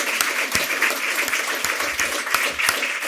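A conference audience gives a round of applause for a guest speaker, a loud, close burst of many hands clapping with sharp individual claps standing out through a steady, sustained roar.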